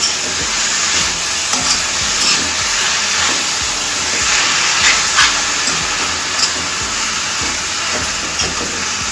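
Spinach and onion mixture being stirred in a pan for palakura ullikaram, a steady close sizzling hiss with scattered soft scraping strokes throughout, no talk.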